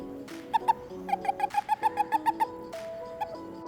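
A male western toad's release call: a rapid series of about a dozen short, high chirps repeats in quick rhythm, close and fairly clear, with brief pauses between bursts.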